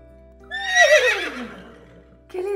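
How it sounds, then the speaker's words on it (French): A horse gives a single loud whinny, a rising then falling neigh close by, heard alone. "C'est le cheval, oui."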